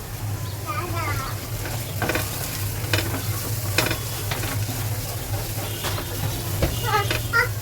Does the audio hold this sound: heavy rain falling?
no